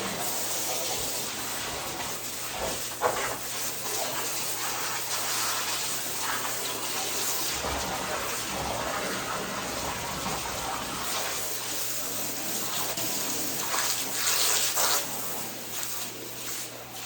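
Water runs steadily from a garden hose into a hot tub, a continuous broadband gush and hiss that holds at an even level throughout with only small fluctuations.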